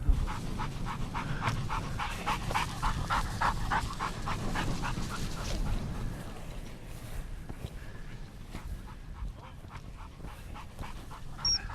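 Working hunting dogs pant rapidly and rhythmically out on a heather grouse moor in Scotland, close at first and then fading as they move off across the hill.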